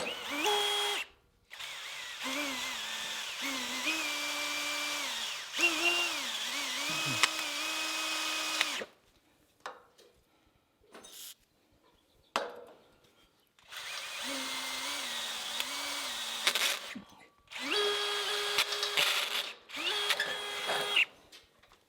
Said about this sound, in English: so I'm drilling an extra hole in our mounting brackets.